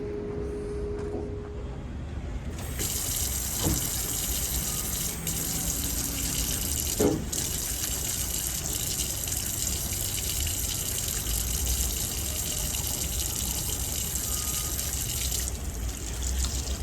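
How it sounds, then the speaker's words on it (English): Water gushes from the tap of a small outdoor hand washing station in a continuous loud splashing stream, with a few faint clunks and a pause near the end. "It's cool to have a little hand washing station right here. So when you're done, you just come over and wash your hands."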